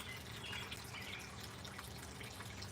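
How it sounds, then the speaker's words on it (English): Water runs steadily through a gold sluice while Missouri mountain material is processed, a faint, continuous trickling wash with soft drips. "listening to the sound of the water running"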